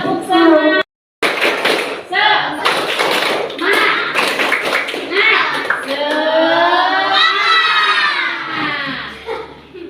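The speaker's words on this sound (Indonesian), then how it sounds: "Tepuk semangat." A classroom of standing children performs the rhythmic tepuk semangat spirit clap in an Indonesian religious lesson, with fast patterned claps and taps mixed with chanting children's voices, loud and close, followed by a brief pause then continued clapping and chant.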